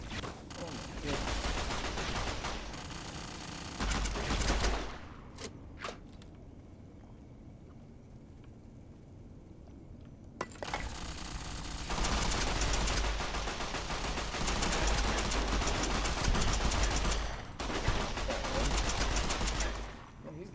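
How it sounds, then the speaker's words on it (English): Minigun firing in Fallout New Vegas: Old World Blues, long sustained bursts of rapid gunfire that break off into a quiet gap of several seconds, then resume loud and continuous for a long stretch. "Oh, he's got a minigun."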